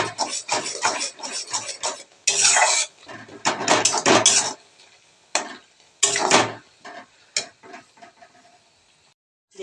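Herbal oil being stirred in a pan over low gas, with irregular bursts of clattering scrapes and taps close by, separated by quieter pauses; no voices.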